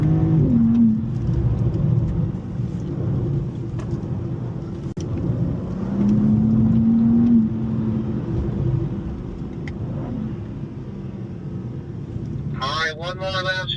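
A BMW M car on a racetrack in Spartanburg, South Carolina drones and revs steadily through fast laps, with engine pitch rising and falling, under near-continuous talk from an instructor inside.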